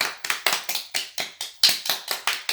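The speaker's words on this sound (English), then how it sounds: "Give it applause to George Washington Carver." Applause for George Washington Carver during a Black History Month event, about a dozen crisp, evenly spaced claps in a steady rhythm, close and clear, like a single person or a few people clapping in unison.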